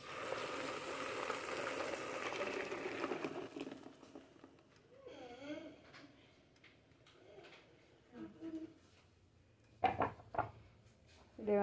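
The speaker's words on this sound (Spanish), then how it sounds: "la vamos a agregar a la sartén para que comience a freírse" A four-cheese cream sauce mixture sizzles loudly in a frying pan for a few seconds, then the hiss fades while a pigeon coos nearby amid small clatters.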